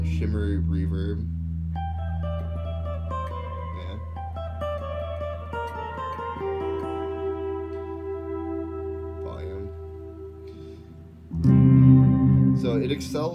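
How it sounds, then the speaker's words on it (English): Sustained guitar chords through a shimmer reverb effect ring out and bloom into a wide, shimmering wash with long, glassy tails, ending in a louder strummed burst. "There's all sorts of shimmery reverb."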